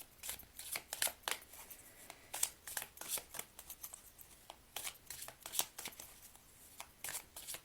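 Oracle cards being shuffled by hand during a coffee-ground reading, a close, crisp run of irregular riffling bursts and soft flutters with no voices.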